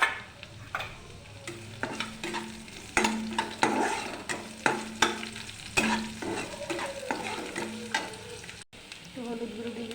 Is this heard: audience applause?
no